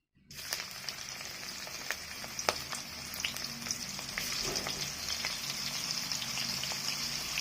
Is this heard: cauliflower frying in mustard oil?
yes